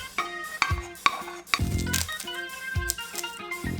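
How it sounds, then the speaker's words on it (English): Spoon stirring cooked quinoa, kale, sun-dried tomatoes and pesto together in a bowl: repeated scraping and clinking strokes at close range, with soft wet squelches between them. "So we're gonna mix it all in this bowl."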